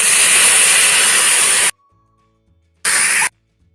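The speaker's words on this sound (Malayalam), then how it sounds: "എന്നിട്ട് ഇതിലേക്ക് കുറച്ച് വെള്ളവും കൂടി ഒഴിച്ചു കൊടുക്കാം." Water is poured into a hot pan of spiced prawn masala and bursts into a loud, harsh sizzle that stops abruptly, then a second short hiss follows after a pause of near silence.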